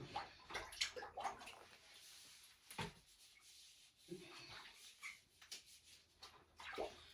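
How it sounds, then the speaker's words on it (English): Water running from a tap while a spatula is rubbed and scrubbed clean, with uneven splashing bursts and scraping rubs, close but fairly quiet, no clear talking. "I'll wash the spatula"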